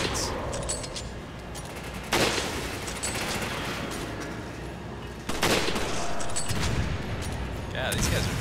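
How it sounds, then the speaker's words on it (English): Enemy gunfire in Resident Evil 5, loud and sustained rapid shooting with sharp bursts standing out at intervals, under occasional talking. "Now people are shooting at me."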